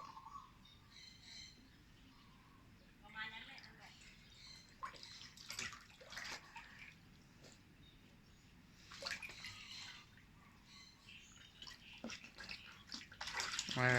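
Pet splashing in a tub of water during a bath, with faint scattered sloshes and splashes that pick up toward the end, some high chirping cries mixed in.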